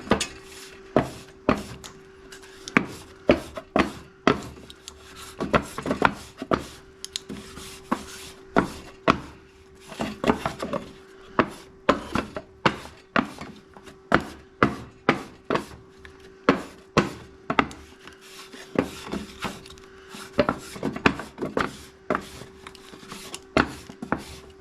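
A warped cylinder head from a John Deere X540 mower being resurfaced by rubbing it on sandpaper, with repeated scraping strokes in an irregular rhythm, close up, and a faint steady hum underneath.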